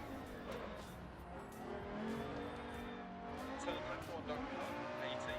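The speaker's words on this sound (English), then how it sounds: "driving the rally version of the Audi Sport Quattro" The inline five-cylinder engine of a rally-spec Audi Sport Quattro in a sim racing game, driven with a manual H-pattern shifter and clutch, revs and pulls at low volume, with tire noise and gear changes.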